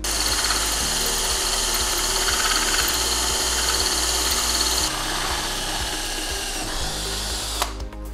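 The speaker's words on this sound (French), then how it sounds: "je vais tout de suite avec la mèche de 3/8 de pouce" Power drill with a 3/8-inch bit boring through an aluminum snowmobile rail, a loud continuous motor whine with pulsing vibration that shifts pitch partway through and ends in a brief clatter, with no talking.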